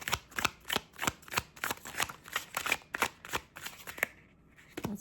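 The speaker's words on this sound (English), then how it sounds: "I'm going to pull some cards from the Burning Heart Love Oracle deck" Cards from a Burning Heart Love Oracle deck riffle and shuffle in a quick, steady run of close, crisp flicks, stopping near the end with a brief soft pause and one last shuffle.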